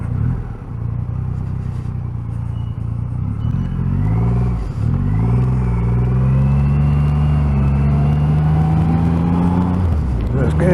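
A 2020 Triumph Rocket 3 2500 cc motorcycle accelerates hard through its gears on a test ride, a loud deep engine note climbing in pitch, dropping at each shift and climbing again, with a rider talking over it.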